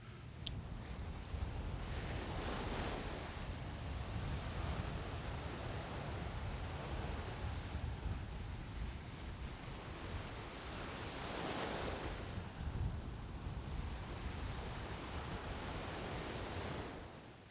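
Steady ocean surf washes onto a beach in Aruba, a continuous broad roar with gentle swells of wave breaks and some wind buffeting the microphone, heard alone without voices.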